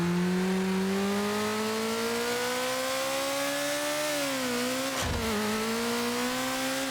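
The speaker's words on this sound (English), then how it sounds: "Yeah, that car just gets insanely fast." Car accelerating hard in the racing video game Burnout 3: Takedown, its engine whining in a loud, sustained, rising tone that dips briefly around a short thud before climbing again, with no talking.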